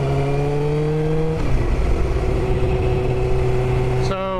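A small car's engine hums steadily in a cabin, its pitch stepping down as gears shift and then rising again near the end, a continuous drone with talk in the car.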